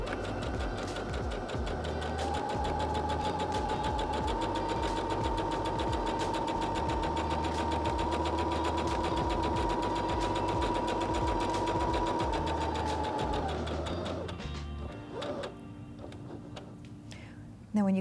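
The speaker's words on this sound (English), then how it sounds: "step on the foot control again to sew forward all the way down to the end of your seam" Singer HD6600C sewing machine stitching forward along a seam, a fast steady mechanical whir and needle clatter held for about thirteen seconds up close, then slowing and stopping, with a few light clicks after.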